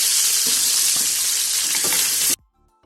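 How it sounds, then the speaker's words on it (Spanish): Onion and garlic frying in olive oil and pork rib fat, a loud close sizzle with stirring scrapes that holds steady and then cuts off abruptly into near silence. "vamos a echar la cebolla y el ajo para que se doren muy bien"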